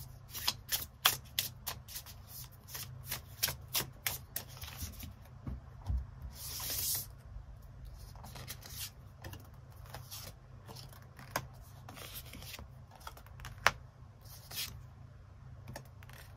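Tarot cards are shuffled and drawn in close, crisp bursts of riffling and sliding, with rapid papery flicks and a longer smooth rub in the middle, and no voices.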